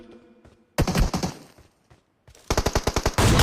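Rapid bursts of automatic gunfire from the mobile battle-royale game BGMI, loud and close, arriving in two clusters of sharp repeated shots with a brief quiet stretch between them.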